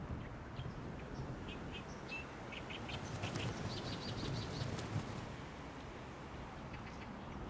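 Wings of birds on a nesting island at a city lake flap steadily in a dense, continuous rush, with scattered short chirps and calls over the top.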